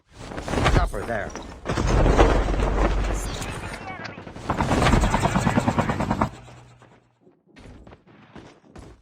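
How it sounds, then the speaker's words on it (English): Helicopter in the Call of Duty Mobile video game, a loud rotor-like thrum mixed with heavy game gunfire and explosion bursts, then dropping to faint scattered effects near the end. "Chopper there."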